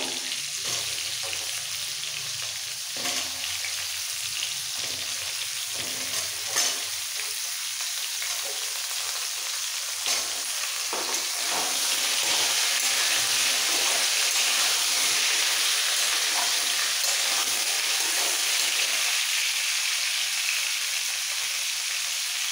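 Pointed gourd, pumpkin and potato pieces fry in hot oil with salt and turmeric, giving a steady, close sizzle that swells louder partway through, with occasional stirring clicks and no talking.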